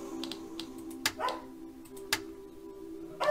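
A neighbour's dog barks out in a garden next door, two or three sharp, distant barks spaced about a second apart over a low steady hum.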